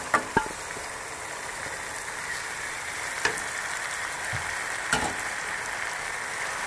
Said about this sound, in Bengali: এবারে মশলাটা আমার কষানো হয়ে গেছে, এর ভিতরে চিকেনটা আমি দিয়ে দেবো।